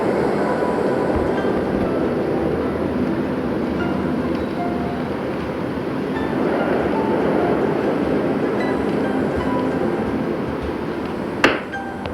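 Steady rumbling of a wooden train rolling along tracks in the video game Dead Rails, continuous and fairly loud, with a single sharp click near the end.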